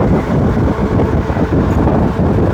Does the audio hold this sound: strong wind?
yes